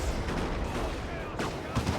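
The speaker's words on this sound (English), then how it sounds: "Sniper's able to plant their feet. Got a bunch of shots in there." Gunfire from a Warhammer 40k: Dawn of War 2 match, with rapid sniper and weapon shots cracking in a dense, noisy battle mix under a commentator's voice.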